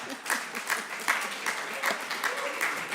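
Applause from a conference audience at a presidential round table on climate adaptation, steady rhythmic clapping at moderate level throughout the short stretch.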